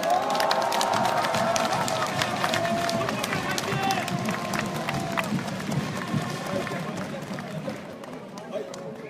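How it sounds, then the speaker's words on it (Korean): A large outdoor crowd at a presidential election rally outside Daehanmun, Seoul City Hall Station, claps and cheers loudly and continuously, with dense applause and shouting slowly tapering. "자, 여러분, 큰 박수로 맞아주십시오"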